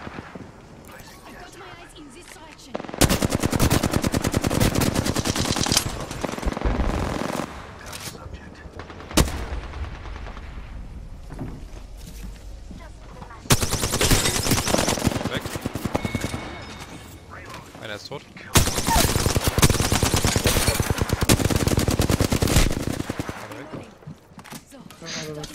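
Gunfire in the battle royale game Apex Legends comes in long, loud automatic bursts with short pauses between them, with some quieter shots and footsteps, under players talking.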